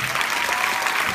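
A theatre audience breaks into a short, dense burst of applause, steady and loud throughout with no voices standing out.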